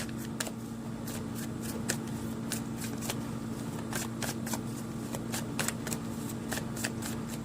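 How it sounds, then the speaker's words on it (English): Tarot cards are shuffled in quick, crisp riffles and slaps, a run of sharp papery bursts repeating steadily over a low room hum, close up and with no speech. "let's get an advice card for you, Capricorn"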